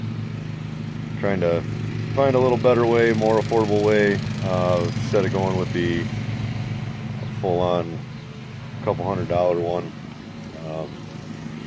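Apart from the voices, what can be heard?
lawn mower running in the background at a farm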